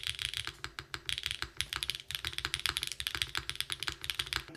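Fast typing on a TKD 75% mechanical keyboard, a dense stream of crisp clicky keystrokes at a steady rhythm with brief pauses, close up and fairly quiet, with no talking.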